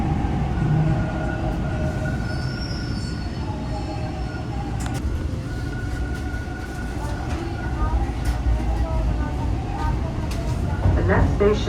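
A Toronto Bloor-Danforth subway train rides between stations toward Bathurst, giving a steady loud rumble with rattles and squeaks throughout and a faint announcement voice.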